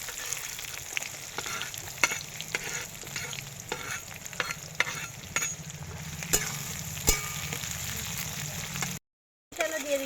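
Dried red chili, whole cumin and sliced onion fry in hot oil for a liver chorchori, a continuous crackling sizzle broken by scattered stirring clicks and a brief silent gap near the end.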